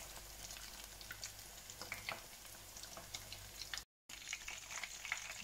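Fish pakoras in batter frying steadily in hot oil, a continuous crackling sizzle with scattered pops, close and moderately loud with no talking, broken by one brief dropout near the end.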